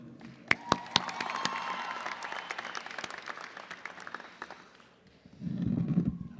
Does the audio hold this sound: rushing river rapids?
no